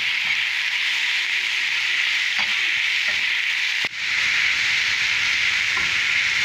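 Spices and chicken frying with onion in a pan without added oil, a steady, loud, close sizzle and hiss that runs throughout, broken by a single brief stir or clatter.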